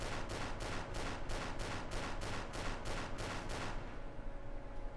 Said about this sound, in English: Shit, someone's shooting me.